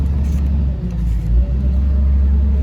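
A Komatsu PC200LC-8 excavator engine idles close by, a steady low diesel rumble with a brief dip and swell midway, and no other sound over it.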